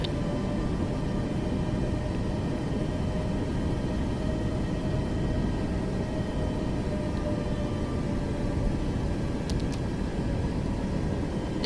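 An airplane taxis toward runway 27 in a flight simulator game on VATSIM, a steady, unbroken engine drone and broadband hum at constant loudness throughout, with no talking.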